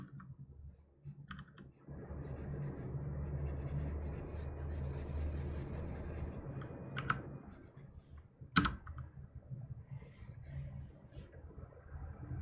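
Typing on a mechanical keyboard sounds as rapid, close clicking and clacking keystrokes in quiet bursts, with a few sharper isolated key hits toward the end, no voices present.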